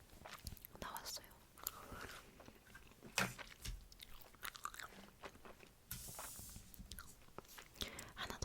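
Gum being chewed close to the microphone in a quiet room, with soft wet clicks and crunches in an irregular rhythm, mixed with quiet whispered talk.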